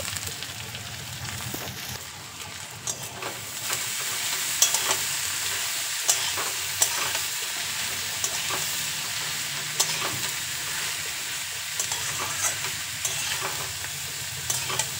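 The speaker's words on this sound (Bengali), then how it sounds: "কেটে রাখা পটলগুলোকে কড়াইয়ের মধ্যে দিয়ে 1 মিনিট ভেজে নেব" Sliced pointed gourd fries in fish oil in a wok, giving a constant close hiss of sizzling with faint intermittent stirring scrapes throughout.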